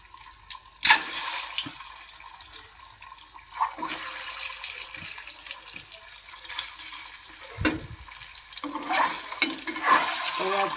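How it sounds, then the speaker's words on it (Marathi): Scored hard-boiled eggs going into hot oil with masala, sizzling and frying with scraping stirring clatters and occasional splashy bursts, moderately close, with no talking. "हे बघा मी अंडे बॉईल केले आणि त्याला अशा चिरा दिलेले आहेत, त्या आपण ह्याच्यात तेलात सोडूया"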